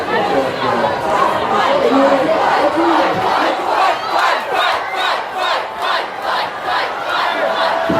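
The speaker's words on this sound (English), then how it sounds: "Everybody's starting to jump up and cheer." Large crowd at the Upload event cheering and shouting, a loud, continuous roar of massed voices with rhythmic chanting swells throughout.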